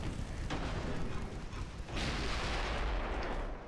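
Naval guns firing in the warship game Ultimate Admiral Dreadnoughts: dull, rumbling booms, one sharp report near the start and a heavier blast about halfway, over a continuous low roar, with no talk.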